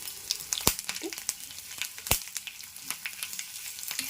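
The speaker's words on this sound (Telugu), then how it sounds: "చక్కగా ఏగుతున్నాయి కదా" Ridge gourd chutney ingredients, garlic, chana dal, urad dal, mustard seeds and cumin, fry in a pan with a steady soft sizzle, broken by sharp crackles and pops throughout.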